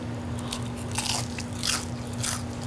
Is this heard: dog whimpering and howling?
no